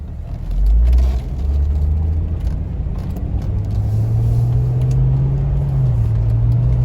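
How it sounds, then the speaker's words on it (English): A 2004 Chevy Corvette Coupe drives along with a deep engine rumble that rises and settles through gear changes, steady and loud from inside the car. "let's take the 2004 Chevy Corvette Coupe for a drive"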